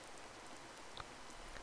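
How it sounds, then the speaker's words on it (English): Heavy rain falls outside in the video game No One But You, a faint, steady hiss of drops with a few louder patters, alone. "It's raining like hell outside."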